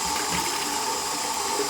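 Tie-dye rinse water is dumped out of a bucket in a steady, close splashing pour that runs the whole moment without pause.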